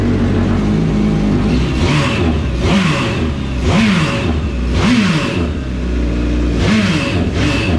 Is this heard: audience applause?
no